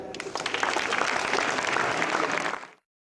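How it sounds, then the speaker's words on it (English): A school audience at a founders' day event breaks into dense, loud applause that holds steady for a couple of seconds, then cuts off abruptly into silence. "And if their prediction is correct, give a big clap to them."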